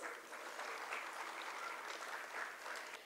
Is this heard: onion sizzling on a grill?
no